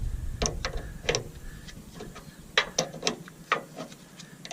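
A wrench tightens the fuel hose fitting on an Onan Cummins QG 5500 RV generator, producing a series of quick metallic ratcheting clicks in small bursts, close and fairly quiet.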